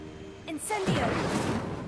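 An Incendio fire spell bursts out in Hogwarts Legacy with a rising whoosh and crackling flare, preceded by a shouted voice and sustained fiery rush afterward.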